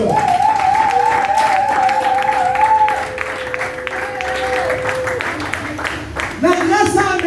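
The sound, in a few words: congregation applauding and cheering for the Lord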